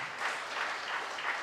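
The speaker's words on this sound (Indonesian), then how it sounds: "Beri tepukan." A congregation applauds at an Easter church session, a soft, even wash of clapping heard from some distance.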